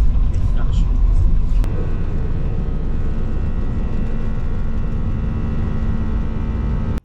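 A passenger airliner's engines roar in a steady, loud cabin rumble during takeoff, with faint talk early on before the noise settles into a constant drone.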